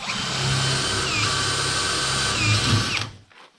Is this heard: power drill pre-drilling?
yes